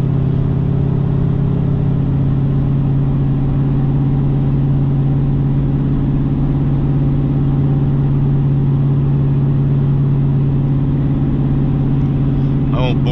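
A GMC 2500HD pickup with a cammed 8.1 Vortec 496 big-block V8, 5.13 gears and an Allison transmission cruising near 2000 RPM while hauling heavy, heard from inside as a loud, steady low engine drone and road rumble throughout.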